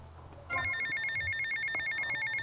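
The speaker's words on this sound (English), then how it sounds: "I'm glad that phone call came through" Phone ringing in GTA Vice City Definitive Edition, an electronic bell-like trill that starts abruptly after a brief quieter stretch and repeats steadily at high pitch, loud and close, with no talk over it.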